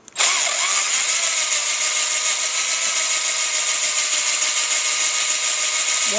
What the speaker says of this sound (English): Just using a cheap cordless drill.